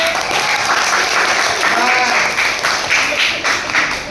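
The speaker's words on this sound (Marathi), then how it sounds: "आपल्या राम सरांसाठी टाळ्या सर्वांनी" A classroom audience claps for teacher Ram sir at a school event. The applause is dense, loud and continuous for the whole stretch, with voices mixed in.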